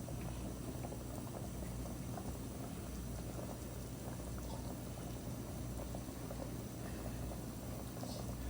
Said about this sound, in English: Coconut banana dumpling. It's boiling into the coconut milk.